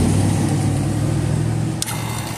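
A vacuum pump runs on a vehicle's A/C system, a steady, loud mid-low mechanical drone with even pulsing that holds throughout, with a brief click near the end and no talking.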